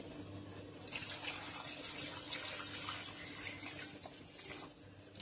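Water running into a cooking pot while making Egyptian lentil soup, a faint continuous splashing trickle over a low room hum, with no talking.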